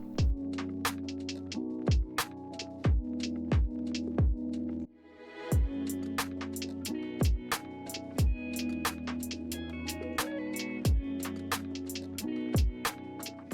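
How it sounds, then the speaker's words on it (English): A 3D printer prints a race car part, giving a steady motor hum with regular sharp ticks and clicks from its moving head, close and moderately quiet, with no talk. "And here's the printer right here, all off on its own. Printing it up the piece right now."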